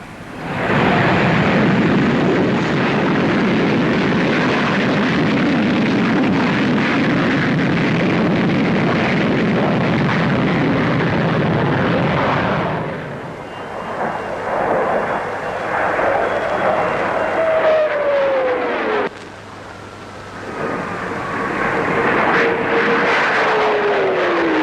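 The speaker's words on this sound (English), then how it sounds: "what's rumored to be the fastest aircraft in the show, the Vickers Supermarine 510" An experimental Vickers Supermarine 510 supersonic jet passes over an airshow with a loud, broad roar that holds for several seconds, then drops away abruptly and trails off with a falling whine.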